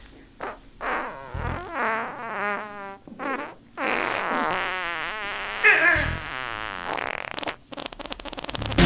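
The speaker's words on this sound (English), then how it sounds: "I can fart my ABCs." Someone farts a long rapid run of the alphabet, a string of buzzy, wavering blasts of varying length with short gaps between them, loud and close, with no talk over them.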